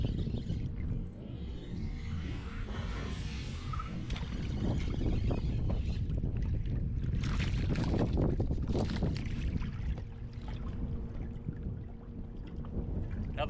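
Wind buffets the microphone on a lake during a fishing outing from a boat, a steady rumbling gust with water lapping and small knocks, rising and easing over several seconds.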